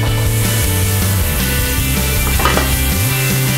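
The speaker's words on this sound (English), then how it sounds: "Quickly saute in a teaspoon of garlic, a little bit of onions, and let it saute gently into there." Garlic and onions sizzle steadily in olive oil in a pan, a close, even frying hiss with faint utensil stirring throughout.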